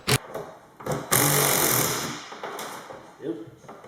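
A power tool whirs in short bursts while removing two bolts from a caravan door bracket, close and fairly loud, with a voice speaking between the bursts.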